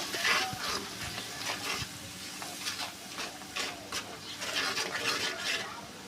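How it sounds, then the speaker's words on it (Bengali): Spices and salt fry in a pan while being stirred for a pumpkin and shrimp curry: continuous sizzling with repeated scraping strokes of the spatula, close and unaccompanied by speech. "দিয়ে মশলাটা ভালো করে কষাবো"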